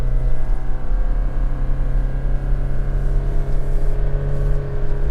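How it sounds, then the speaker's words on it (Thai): Toyota Fortuner GR Sport held in first gear while descending a steep mountain road, its engine braking as a loud, steady droning hum with sustained tonal whine, continuous throughout and alone without talk. "เนี่ยฮะเสียงเครื่องยนต์จะ จะเป็นเอนจินเบรกมากกว่าเดิมครับ"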